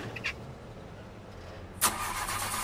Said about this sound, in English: Looks like the engine died.